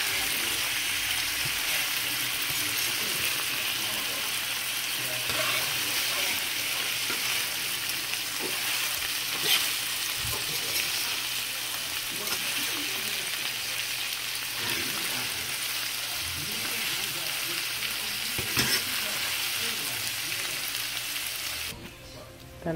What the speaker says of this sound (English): Add my ackee. And with a fork, I'm gonna mix it in.